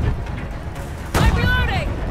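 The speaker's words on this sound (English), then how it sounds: "Throwing grenade." A grenade going off in the shooter Modern Warfare 3: a sharp, loud blast lands about midway through and trails into a rumbling decay, while the sounds of battle and spoken callouts carry on around it.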